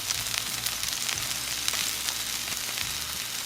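Asparagus sizzles steadily in a hot pan, a dense continuous crackling hiss that stays close and even throughout, with no voices.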